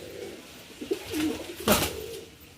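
A Kalanka pigeon gives a low, rolling coo close by, followed by a brief burst of rustle or wing flutter, all over a quiet background.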